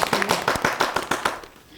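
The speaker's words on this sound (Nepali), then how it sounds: "एकचोटि ताली बजाइदिन्छ" Quick, evenly spaced claps from an audience at a song-and-dance stage show, a short burst of applause that fades out toward the end.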